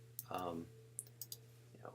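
Computer mouse clicks at a desk while working in InDesign: several short, sharp clicks spaced irregularly, near and fairly quiet, after a brief spoken phrase.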